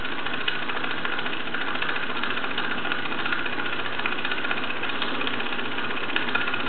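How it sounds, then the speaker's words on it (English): A Bowman M135 toy steam engine, fired by an M140 lamp, runs and blows off steam with a steady, even mechanical chugging and hiss that stays constant throughout, close and without talking. "He's blowing a little bit too much steam for my liking there."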